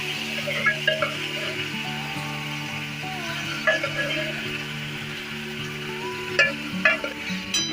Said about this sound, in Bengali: কালো জিরে ফোড়ন দিলাম দিয়ে এটাকে একটুখানি নেড়ে